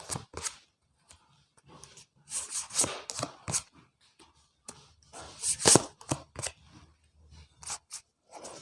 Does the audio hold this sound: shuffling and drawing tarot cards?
yes